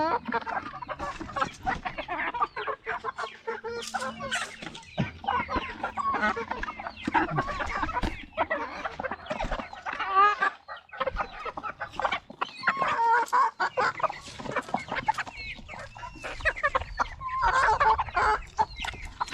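Young roosters (stags) on a Filipino poultry farm cluck steadily and busily throughout, a dense close chorus of overlapping clucks with occasional calls and faint voices in the background.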